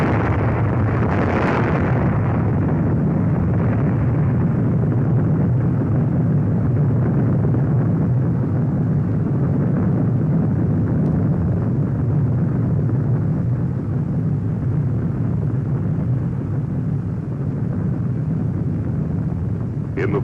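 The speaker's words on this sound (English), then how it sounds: "The bomber is over the target. The bomb is away. And 1 second to go." An atomic bomb explodes over a fleet of navy target ships, heard as a continuous, loud, low roaring rumble that stays steady for about twenty seconds without a sharp onset.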